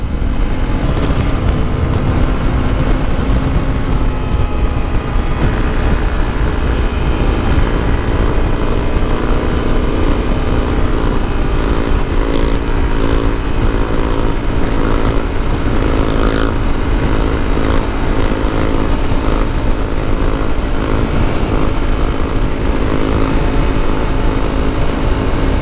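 A Honda CRF250L motorcycle cruises on a highway, its engine droning loud and steady close by, mixed with constant wind rush and no pauses, with no talking.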